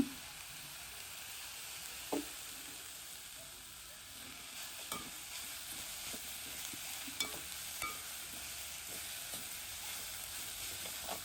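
Drumstick leaves frying with salt and chili powder and being stirred in a pan, a low steady sizzle with occasional soft scrapes of the spoon, quiet and close with no talking.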